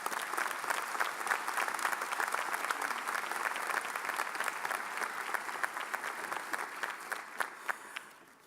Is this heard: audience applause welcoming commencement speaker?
yes